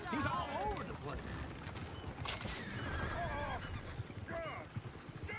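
Horses neigh and whinny repeatedly in the Red Dead Redemption game, with hoofbeats clip-clopping beneath a busy, loud scene; voices talk over the commotion.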